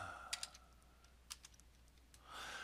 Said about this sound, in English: if I just start typing elevated button and hit enter